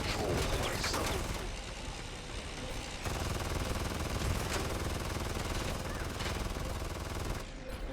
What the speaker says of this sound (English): It's just a lot of explosions